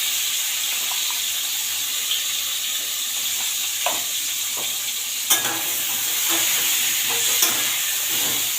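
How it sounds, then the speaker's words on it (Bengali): Pointed gourd (potol), rubbed with salt and sugar and sprinkled with turmeric, fries in a pan with a continuous close sizzle, a few sharp utensil clinks and stirring sounds breaking through. "এবার পটলটা আমরা ভেজে নেব।"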